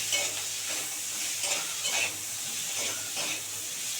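Pea greens with potato and flat beans, seasoned with turmeric, fry and sizzle steadily in a pan, with a continuous hiss and occasional stirring scrapes throughout.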